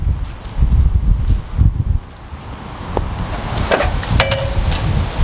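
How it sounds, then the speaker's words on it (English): Strong gusty wind buffets the microphone in loud, rumbling bursts, with faint scattered rustling and a brief high chirp partway through. "it is super windy out"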